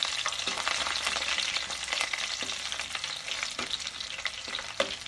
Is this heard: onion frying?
yes